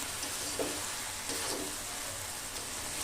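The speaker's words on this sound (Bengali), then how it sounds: "দেখুন আমি নাড়ছি, কড়াই কিন্তু আর লেগে নেই।" Cabbage chicken curry being stirred in a kadai, a steady low sizzle with a couple of soft scraping stirs, close and alone without voices.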